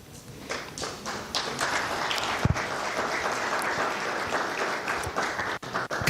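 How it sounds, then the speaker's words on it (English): An audience at the FilmAid film festival breaks into clapping that swells after a quiet start and stays fairly even, with a few louder thumps and taps near the mic scattered through it. "Come on, clap for this guy like you know."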